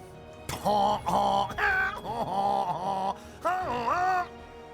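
A voice imitates a goose honk in a techno style, with a string of loud, nasal, pitch-bending honks in choppy rhythmic bursts and short gaps between them.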